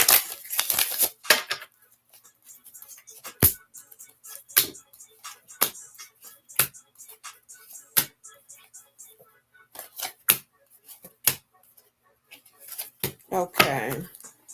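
Tarot cards being shuffled in a reading, a string of sharp crisp riffles and snaps spaced irregularly over a quiet background, with a burst of card noise and handling at the start and end.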